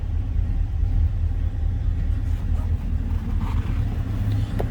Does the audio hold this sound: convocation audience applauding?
no